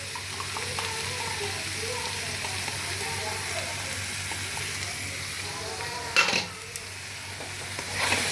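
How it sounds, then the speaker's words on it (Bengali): Tomato puree sautéing in a pan for an egg do pyaza, a steady soft sizzle with occasional stirring scrapes, and a brief louder clatter of utensils near the end. "এবার আমি টমেটো পিউরি দিয়ে দিয়েছি। দিয়ে এবার এটাকে আবার 5 মিনিটের মধ্যে একটু সটে করে নিই।"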